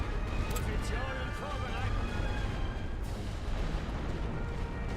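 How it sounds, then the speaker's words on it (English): Artillery bombardment in the WWI strategy game The Great War: Western Front, a continuous low rumble of shelling and booms filling the background, with speech and a faint musical tone drifting over it. "Methodically picking apart the enemy defensive positions with artillery."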